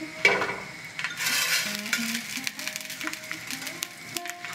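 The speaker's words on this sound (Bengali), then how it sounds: "শুকনো লঙ্কা দিলাম, তারপরে দিচ্ছি সর্ষে আর মেথি" Dried chillies, mustard seeds and fenugreek sizzle in hot oil for masala dosa and sambar dal, a close crackling fry with spoon stirring and metal pan clinks throughout.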